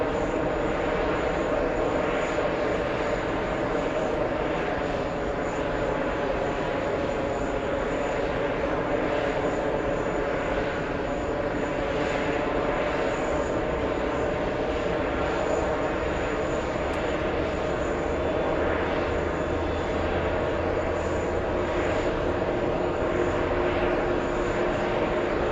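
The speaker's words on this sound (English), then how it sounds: "JetBlue A321 XLR, that one. Perfectly done." A JetBlue Airbus A321 XLR jetliner roars steadily and loudly throughout, a continuous broadband engine rumble with no voices over it.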